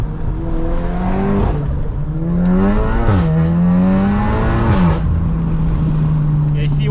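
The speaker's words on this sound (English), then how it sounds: "I'm trying to prod it to make turbo noise" Stage 3 tuned VW Mk8 Golf R engine revving with turbo noise, close and loud, pitch rising and dropping in several swells over a steady drone, with faint whooshes and a person talking.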